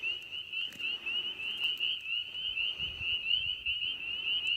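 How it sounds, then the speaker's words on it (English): Spring peepers sing at sunset in a field, a dense chorus of high, shrill peeps pulsing steadily from a middle distance over a low outdoor rumble. "thought I'd share some peepers singing"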